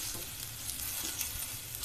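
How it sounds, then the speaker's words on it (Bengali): Nut paste, onion and spices stirred and frying in oil for Bangladeshi prawn malaikari, giving a steady close sizzle with soft scraping throughout and no talk. "দিয়ে এটা ভালো করে নাড়তে হবে, যতক্ষণ না তেলটা উপরে চলে আসে।"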